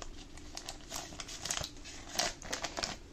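A Dollarama hockey card pack's foil wrapper is torn open close by, giving a continuous crinkly rustle with brief louder crackles, unaccompanied by any voice.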